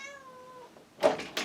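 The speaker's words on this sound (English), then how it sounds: "And you just heard my cat meow." A house cat gives a short meow indoors, its clear falling tone lasting under a second, followed by a couple of soft knocks or bumps nearby, with a quiet room and no talking.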